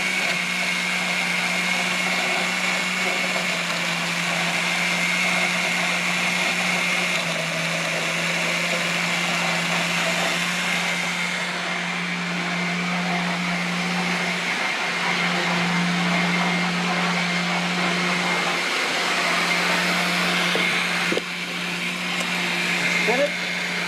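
A blender spins black grapes into a fruit smoothie, running as a loud, steady motor whir for the whole stretch with slight shifts in pitch and a faint voice underneath.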